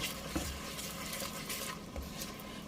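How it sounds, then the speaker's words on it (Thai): Tomato-based Pad Thai sauce simmers in a pan with a soft, continuous bubbling sizzle and a few faint stirring clicks, close and steady throughout. "เราจะเคี่ยว ไปสักพักหนึ่งนะคะ จนกระทั่งตัวซอสเดือดนะคะ"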